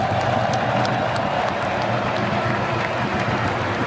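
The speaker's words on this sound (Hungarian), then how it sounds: "hogy tapsoljátok meg magatokat" A stadium crowd of football fans claps and cheers for itself after a victory speech by Szoboszlai, a dense, steady wash of applause with scattered sharp claps throughout, loud and close.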